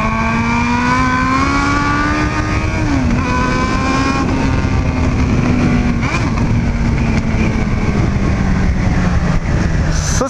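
A Honda Hornet motorcycle engine drones loudly and steadily up close, its pitch rising and dipping slightly as the bike cruises along.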